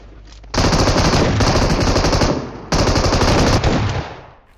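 Gunfire in the PUBG battle royale game: a shotgun exchange against an opponent carrying an M249 comes through as two long, loud bursts of rapid shots separated by a short gap, with no talk.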